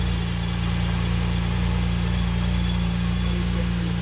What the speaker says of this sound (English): Alternator's making a little bit of a noise